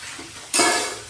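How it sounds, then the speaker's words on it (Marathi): Running tap water splashes over dishes as leftover food is rinsed off before scrubbing, a soft hiss that jumps louder halfway through and stays steady to the end, with no talking. "मी भांडी घासताना ना आधी सगळे भांडीचे जे खरकट असतं ना ते असं धुवून घेते"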